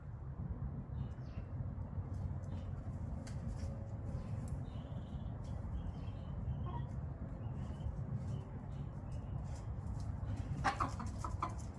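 Chickens cluck faintly in a chicken coop, with a few soft scattered calls over a steady low rumbling background and no one speaking.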